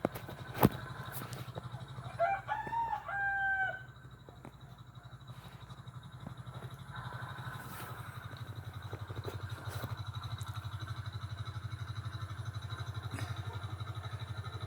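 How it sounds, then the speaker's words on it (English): A few short, bird-like clucks and chirps from meat chickens stand out briefly over a steady low engine drone that runs through the whole clip. "Look at the meat chickens."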